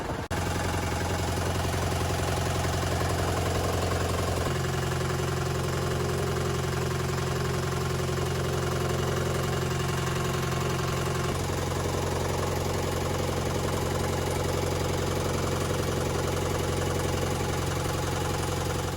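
A steady boat engine idles continuously with a loud low throb and mechanical knock, shifting pitch slightly twice as the RPM changes.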